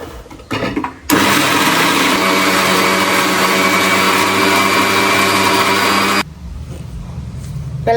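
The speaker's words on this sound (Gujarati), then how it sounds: "ચટણી થઈ ગઈ મિક્સરમાં આમાં વાર ન લાગે" A kitchen mixer grinder blends garlic chutney with a loud, steady whirring motor drone that starts abruptly, runs for about five seconds and then cuts off, with quieter room sound before and after.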